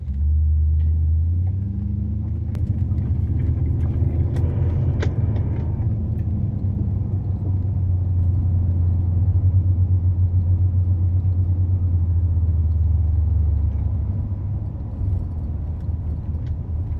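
A BMW, an E31/E32/E34-era model, drives off along a dark residential street. A deep, steady engine and road rumble holds throughout, with a brief rise as it pulls away early on, and no talking.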